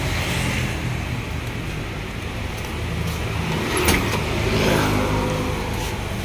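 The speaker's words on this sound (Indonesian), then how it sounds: "Ini mesin nyala" A used car from 2002 idles steadily at close range, a constant mid-pitched engine hum with faint clicks and a slight swell near the middle, no voices over it.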